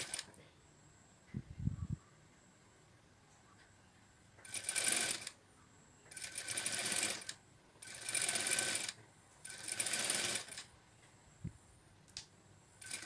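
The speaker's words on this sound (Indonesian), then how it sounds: "Jahit sampai ke bawah, jangan lupa dikunci." A sewing machine stitches an invisible zipper in four separate bursts of rapid whirring, each a couple of seconds long with short pauses between, close by, plus a few small clicks and taps.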